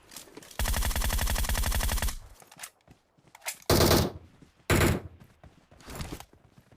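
Loud automatic gunfire in the mobile battle royale game PUBG Mobile: a sustained two-second burst of rapid shots, then two shorter heavy bursts separated by quieter gaps of clatter.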